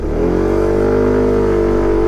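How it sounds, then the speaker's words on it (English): A Daytona ADV prototype scooter engine restarts after an automatic start-stop and pulls away, its loud, close motor note rising steadily without pause. "When you're at a traffic light, the engine switched off, we have the automatic start stop feature"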